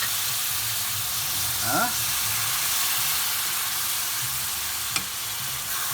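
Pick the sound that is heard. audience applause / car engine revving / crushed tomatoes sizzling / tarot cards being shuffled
crushed tomatoes sizzling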